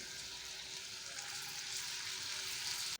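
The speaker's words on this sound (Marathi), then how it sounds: "टोमॅटो चांगला सॉफ्ट होईपर्यंत परतून घ्यायचा आहे." Tomato sautés with spices for dhaba-style paneer bhurji, a continuous, even hiss of frying that swells slightly before cutting off abruptly.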